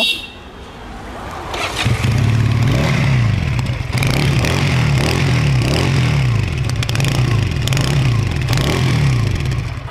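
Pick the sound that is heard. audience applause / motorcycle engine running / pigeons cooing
motorcycle engine running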